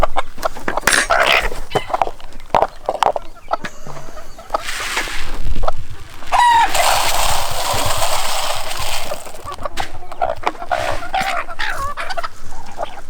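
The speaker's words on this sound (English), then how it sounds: "Crazy chickens." Livorno bantam cross chickens cluck steadily close by, with a louder, drawn-out crowing call breaking through in the middle, and scattered fowl calls continuing around it without any talking.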